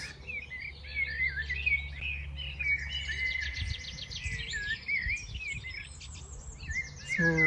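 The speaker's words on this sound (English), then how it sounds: "So the birds are making very sweet sound." Birds sing in a park grove in New Jersey, with a steady stream of sweet, warbling chirps and trills that continue through the whole stretch over a low background hum.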